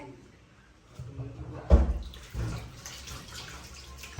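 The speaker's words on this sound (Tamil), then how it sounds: "இப்போ எங்களுக்கு தேவையான அளவுக்கு தண்ணி விட போகிறோம்" Water splashes and pours into a container in a couple of bursts, with soft trickling and low background noise between them.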